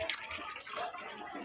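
Laundry rinse water, scented with fabric softener, pours and gushes into a toilet bowl in one steady, close, continuous splash.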